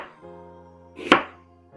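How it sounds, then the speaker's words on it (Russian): A kitchen knife slices an onion into half rings: one crisp chop lands against the board, set against a steady tonal hum, with no talking. "И дальше вот эта часть уже нарезается на полукольца."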